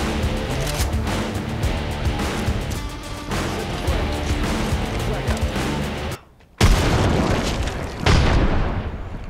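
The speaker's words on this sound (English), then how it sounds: "did you just waste both of your grenades on a bamboozle?" Heavy explosive booms and dense battle noise from the shooter game Apex Legends fill most of the stretch, broken by a brief sudden drop to near silence before loud blasts return.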